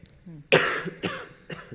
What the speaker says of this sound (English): it's a lingering cough